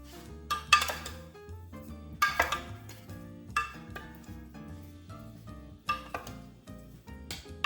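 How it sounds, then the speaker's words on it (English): Baked feta pasta ingredients are stirred together in a baking dish, giving repeated clinks and scrapes of a utensil against the dish in bursts over soft background music. "now it's time to give all of this a mix"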